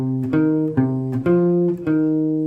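Jazz blues phrase from a tune played on guitar: a short run of clear, sustained single notes, some slid or bent, plucked close and loud in an even, unhurried rhythm.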